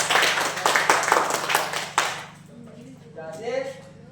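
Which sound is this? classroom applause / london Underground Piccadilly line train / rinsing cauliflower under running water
classroom applause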